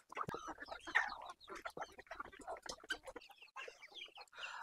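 Free-range country chickens on a poultry farm, clucking and calling in a busy, continuous mix, fairly close, with a few louder squawks and no speech.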